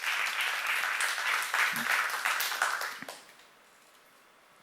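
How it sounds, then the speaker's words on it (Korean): A church congregation at a seminar breaks into dense, steady applause that holds for about three seconds, then stops abruptly into near silence. "박수를 하나 둘 셋"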